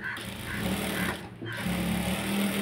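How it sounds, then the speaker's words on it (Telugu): A sewing machine stitches the side seam of a blouse, a steady close mechanical whir with a brief pause midway before resuming, moderately quiet and heard alone. "ఇలా కరెక్ట్గా మనం 4 కుట్లు ఇటువైపు, మళ్ళీ ఎడ్జ్కి ఒక కుట్టు వేసుకోవాలి."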